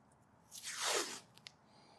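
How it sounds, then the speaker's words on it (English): A single quick tearing rip of masking tape, close and fairly quiet, followed by a couple of soft clicks. "Masking tape works best."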